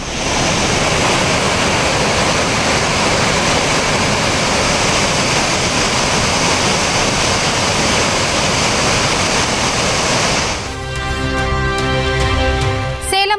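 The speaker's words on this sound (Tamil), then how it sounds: "குற்றாலம், பேரருவி, பழைய குற்றால அருவிகளில் வெள்ளம்" Flooded waterfalls at Courtallam after heavy rain roar in a dense, steady, loud rush of falling water that fills the whole scene, then cuts to a different noisy texture near the end.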